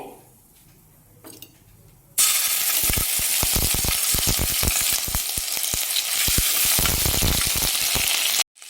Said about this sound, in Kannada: ಎಣ್ಣೆ ಬಿಸಿ ಆಗಿದೆ. ನಾನು ಈಗ ಶುಂಠಿ ಬೆಳ್ಳುಳ್ಳಿ ಪೇಸ್ಟ್ನ ಹಾಕ್ಕೊಳ್ತೀನಿ.